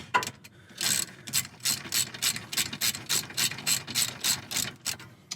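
Rapid ratchet clicks from a socket wrench loosening the 13mm brake caliper bolts on a Honda CR-V during a disc and pad job, a steady run of crisp bursts close up with no talking.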